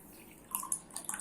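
Water poured into a flask that already holds some water, heard as a few light drips and splashes close by in a quiet room.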